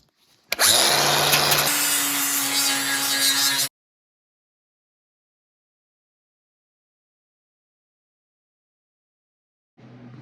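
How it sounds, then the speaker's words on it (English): An angle grinder bites into the steel fender edge of a 1956 Mack truck, a loud close whine that starts abruptly, holds for about three seconds, cuts to silence, then briefly spins up again at the end. "We got to grind this back so we can weld on it, and also clean off this whole edge of the fender"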